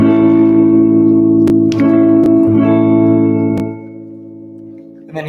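An electric guitar with a P90 pickup plays a clean sustained chord through a Princeton amp kit with light reverb, ringing loudly and then fading, with a few sharp string clicks.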